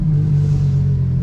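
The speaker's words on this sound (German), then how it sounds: "Und jetzt starten wir den Motor." Deep engine rumble from a Ferrari LaFerrari Aperta as it starts, a loud, steady low growl held for a moment, close by.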